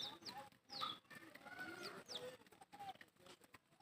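A chicken clucks in brief, scattered calls among a small flock of pigeons, with mixed bird sounds close by throughout.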